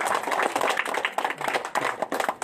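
An audience at the opening of a competency-based training event claps together in steady, dense applause that stays loud and continuous throughout.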